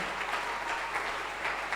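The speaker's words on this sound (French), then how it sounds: "Est-ce que nous pouvons l'acclamer très fort?" A church congregation at a thanksgiving service applauds steadily and loudly, a dense, continuous wash of clapping that fills the whole moment.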